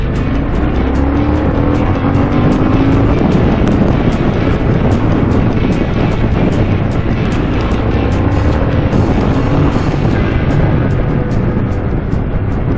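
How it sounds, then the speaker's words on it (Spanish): A 2022 Harley-Davidson Sportster S with 121 hp, ridden in sport mode, accelerates hard, its loud engine roar blended with heavy wind buffeting on the microphone, sustained for the whole stretch with no talking. "Sí que acelera bien, sí, la Harley."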